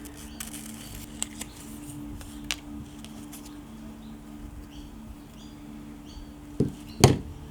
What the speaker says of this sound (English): I do want to fussy cut these butterflies